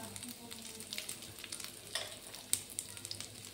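Prawns frying in a pan with tomato puree and salt, a soft continuous sizzle with scattered small crackles and pops, fairly quiet and without speech.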